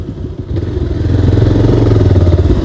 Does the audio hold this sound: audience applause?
no